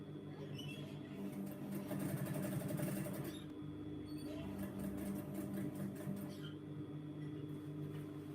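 A sewing machine stitches a pleat into a jacket being taken in from a size 22 to a size 12, a continuous close whirring drone that shifts pitch slightly a few times.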